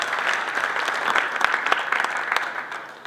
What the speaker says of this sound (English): wouldn't we like to give our panelists a round of applause